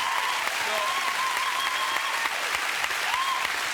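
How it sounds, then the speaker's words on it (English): A television chat-show studio audience bursts into sustained, dense applause that holds steady throughout, with a host's voice briefly audible over it. "you should clap it, because he is a genius"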